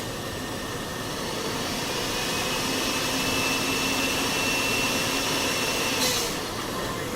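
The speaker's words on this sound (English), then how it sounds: "I'm just going to turn my mixer off here for a quick second" A stand mixer whips a hot nougat sugar mixture with a steady, loud whirring drone that holds constant throughout and dips briefly near the end.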